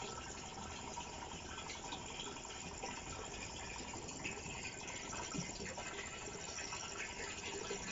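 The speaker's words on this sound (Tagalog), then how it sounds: "Nagpupuno ako ng tubig." Tap water running into a container being filled for insecticide spraying on an ampalaya farm, a steady broadband gush that continues without a break, moderately loud and close, with faint background noise.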